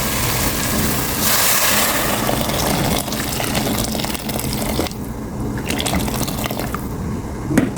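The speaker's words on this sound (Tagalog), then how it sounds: "ay lagyan na siya ng tubig." Water pours steadily into a cooking pot while preparing a Saudi-style chicken salona, a continuous splashing fill that stays close and loud throughout with no talking.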